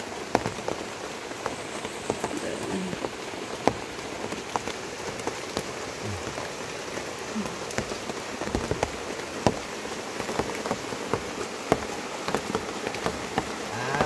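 Steady rain patters on a surface, with scattered droplets tapping throughout at a soft, even level and no voices, in Leyte, Philippines.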